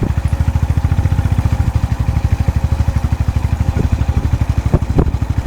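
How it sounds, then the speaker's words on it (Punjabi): A motorcycle engine chugs in a fast, steady pulsing rhythm, close and loud, labouring in first or second gear up a steep hill road, with a few clanks near the end. "ਪਹਿਲਾ ਦੂਜਾ ਗੇਰੇ ਹੀ ਪੈਣਾ ਆ ਮੋਟਰਸਾਈਕਲ ਦਾ"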